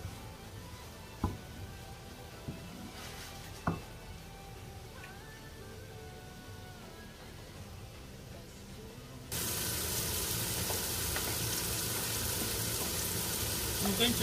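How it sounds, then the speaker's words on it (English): Ingredients for German pasta fry in a pan, first with quiet scattered taps and clinks, then a loud, steady sizzle that bursts in abruptly and carries on unbroken to the end. "I'm going to fry for about 10 minutes before adding any other thing to it."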